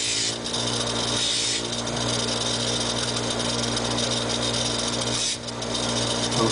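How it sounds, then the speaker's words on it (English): A modified bench grinder fitted with an auger tool and multi-disc sands a hard Osage wood boomerang, giving a loud continuous motor whine with abrasive rubbing and brief dips in pressure. "It's basically a bench grinder, modified, an auger tool, and a multi-disc."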